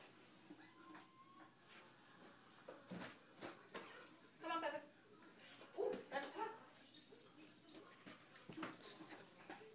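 A pet dog comes in from outside to a home kitchen, bringing scattered thumps and clatter of the door and paws along with several short, close whimpers and yips. A faint voice murmurs in the background.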